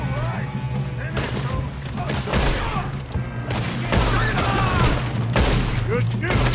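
Rapid gunfire from a Red Dead Redemption 2 shootout, shots cracking in dense overlapping bursts over a steady low drone, with shouted voices mixed into the chaos throughout.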